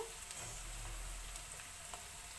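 Round-cut ivy gourd slices frying in hot oil in a pan, a continuous close sizzle with a few faint crackles and no talking.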